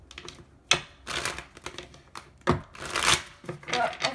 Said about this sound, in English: I'll take one more shuffle